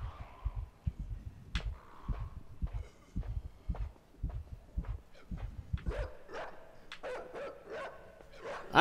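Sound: dog barking in the video game INSIDE

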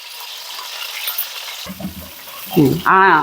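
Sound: green chilies frying in oil

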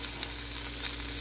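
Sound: capsicum and prawns frying in a pan

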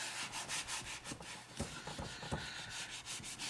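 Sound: rubbing out writing on a board

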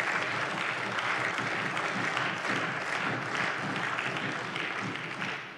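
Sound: applause in parliament

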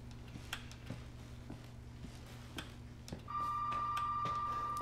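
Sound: telephone ringing in Resident Evil 7 video game

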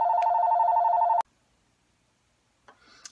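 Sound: telephone ringing

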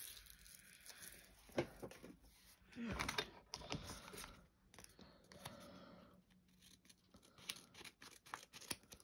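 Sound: scissors cutting paper

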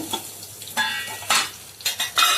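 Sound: soybean chunks frying in oil

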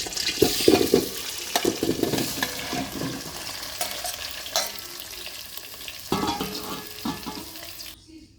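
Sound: olives cooking in mustard oil

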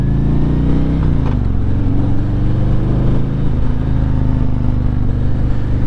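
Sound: motorcycle engine during a ride

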